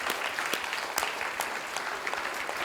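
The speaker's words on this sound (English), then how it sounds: "Give yourself a big round of applause" Audience applause at a youth leaders summit ceremony, dense continuous clapping from a crowd with occasional sharper claps standing out.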